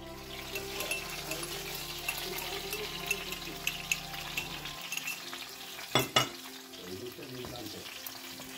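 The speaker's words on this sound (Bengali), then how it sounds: "চিকেন আর পনিরটা হালকা নুন দিয়ে ভেজে নেওয়ার পরে ওই তেলের মধ্যেই দিয়ে দিল পেঁয়াজ, রসুন, আদা, কাঁচা লঙ্কার পেস্টগুলো।" Onion, garlic, ginger and green chili paste frying in oil left over from frying chicken and paneer for chicken jalfrezi, a continuous close sizzle with stirring scrapes and a couple of sharp clinks.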